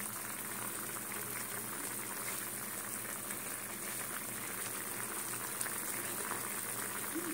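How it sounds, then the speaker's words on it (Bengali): Chicken curry bubbling in a pot, heard as a steady, dense simmer with a constant bubbling hiss that stays even throughout and has no speech over it. "এবারে ফুটতে দেবো, কিছুক্ষণ ফুটুক"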